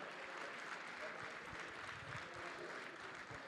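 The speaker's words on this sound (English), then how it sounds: "Absolutely, clap it up." A large audience of about 1,100 high school young men applauds at a conference, a dense, even wash of clapping heard faintly and steadily throughout, with a few sharper claps standing out.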